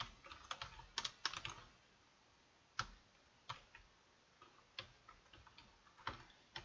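Typing on a computer keyboard while setting up VNC on a Raspberry Pi with Kali Linux: scattered close, crisp key clicks in short bursts and single taps, with gaps between, ending in presses like hitting enter. No talking.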